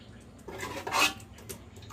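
Prawn gravy is moved from a pot into a bowl while cooking prawn dum biryani, heard as a few quiet metallic clinks and scrapes of utensils against cookware, close and soft.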